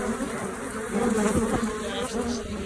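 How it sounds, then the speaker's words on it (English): A dense, steady buzz of many bees fills the air close by, continuous and loud throughout the short stretch. "These bees are nasty bees."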